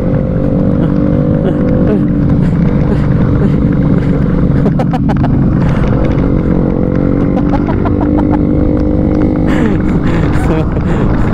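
A Yamaha motorcycle engine runs loud and steady while riding, a continuous close drone with brief clattering bursts, and people talk over it.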